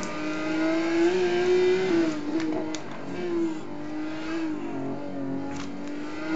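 Ferrari F550 racing-game engine at the Nurburgring, revving loudly and continuously with steady harmonic drone, rising and dipping as the car brakes and powers through corners, close and dominant throughout.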